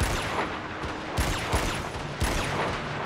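Sustained gunfire from the Vita game Uncharted: Golden Abyss, a loud continuous fusillade with a few sharper bursts standing out against dense, noisy combat ambience.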